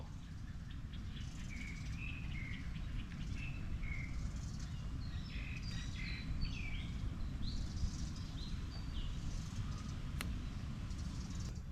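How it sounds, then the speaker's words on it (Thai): Scattered short chirping bird calls ring out over a constant low rumble of outdoor background noise in Suan Luang Rama IX park, moderately distant. "เนี่ยเสียงนกกระเบา"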